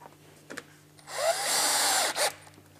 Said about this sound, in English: I'm just snugging the screws down nice and tight.